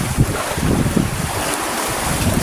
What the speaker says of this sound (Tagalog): Mayroong malaking alon oh.